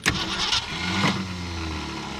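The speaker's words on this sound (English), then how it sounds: "That engine wants to run now, I'm telling you." A 1965 Ford Falcon or 1984 Thunderbird engine starts after years sitting, cranking briefly before catching and settling into a loud, steady, rough idle close by.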